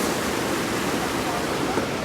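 Water rushes over a river dam where people wash clothes, making a loud, steady, broadband roar that fills the whole stretch without letting up.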